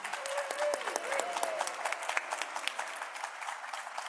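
An audience at a humanitarian awards ceremony claps steadily, a dense wash of hand claps with a few sharper nearby claps and brief whoops early on.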